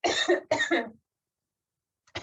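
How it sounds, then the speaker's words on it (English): An instructor coughs twice in quick, close, loud bursts during a pilates class, then falls silent before a brief third cough begins at the end. "Hopefully that will make me cough less"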